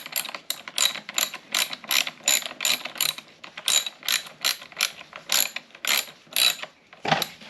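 Rapid ratcheting clicks from a tool tightening the chain tension on a chainsaw during a chain change, in steady bursts of several clicks each with short pauses between, close and fairly loud, with no talking.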